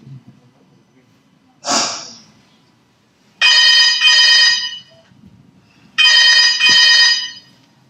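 A telephone rings in two long trilling bursts separated by a pause, loud and close in a quiet room, after a brief breathy noise.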